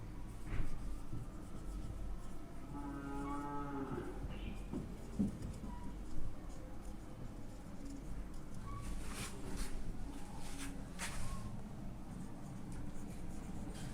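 A chemical equation is written by hand, giving faint, continuous pen-on-paper scratching under a steady background hum, with a pigeon cooing in the distance and a few brief sharper strokes.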